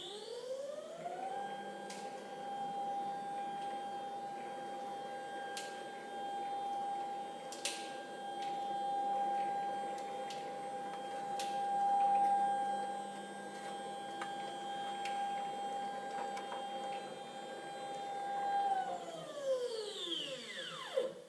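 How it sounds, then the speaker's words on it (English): The CNC backgauge on an Edwards 55-ton ironworker drives to its calibration position with a steady motor whine. The whine ramps up at the start, holds for about seventeen seconds with small ticks, then glides down as the gauge stops. "The backgauge will now rehome. Backgauge going to the commanded calibration position."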